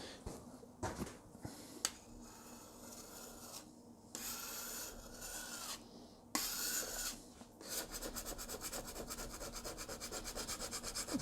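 Scraping dried cleaning gel off the surface of a 3D printer bed, rough rasping strokes in short bursts, then a fast, steady back-and-forth scrubbing, close and fairly quiet.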